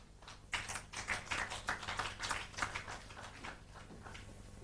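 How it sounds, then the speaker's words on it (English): An audience at a building-industry digital system launch claps for the software developers, scattered individual claps that come fairly quietly at a brisk, uneven pace and thin out toward the end. "Please don't tire to clap for these developers."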